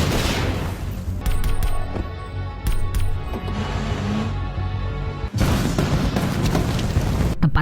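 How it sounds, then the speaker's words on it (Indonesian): An explosion destroys a cartel hideout in an action film, a loud sustained blast with crackling gunfire-like bursts and rumble throughout, a brief cutoff near the end before the roar resumes. "tempat kartel itu pun meledak tak tersisa."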